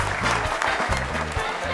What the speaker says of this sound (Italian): un applauso a Giovanni